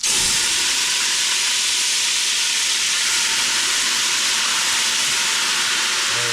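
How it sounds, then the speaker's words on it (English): Red wine hitting a hot pan to deglaze it for a braciole sauce, giving off a loud, steady, broad sizzling hiss that holds evenly throughout with no pauses or voices. "I got a little red wine here, guys. I'm gonna just start, you know, glaze the bottom of this pan."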